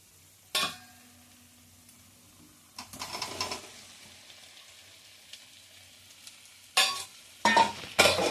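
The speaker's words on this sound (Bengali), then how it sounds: "আলুটা দিয়ে ভালো করে মিশিয়ে নেব" Potatoes are tipped into a frying spiced masala for palak dum aloo, with bursts of sizzling and clattering stirring against the pan separated by quieter stretches of low simmering.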